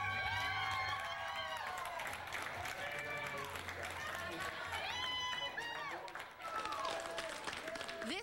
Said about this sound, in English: This was a small but a vocal crowd cheering on Katie Stevens.